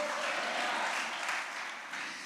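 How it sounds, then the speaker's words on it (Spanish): A church congregation claps together in steady, dense applause during a worship service; the sound is even and sustained, easing slightly toward the end. "¿Le puedes dar mejor ese aplauso al Señor y a su nombre?"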